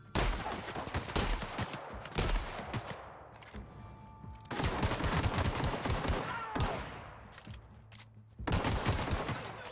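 Shotgun blasts in The Outer Worlds, a sci-fi shooter, in several loud bursts of rapid fire separated by brief lulls with ringing tones, close and dominant, with occasional voice.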